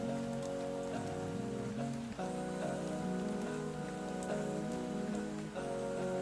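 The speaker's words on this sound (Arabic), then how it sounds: "rain" Steady rain patters continuously on a surface, a dense even hiss mixed with a soft melodic musical backing throughout.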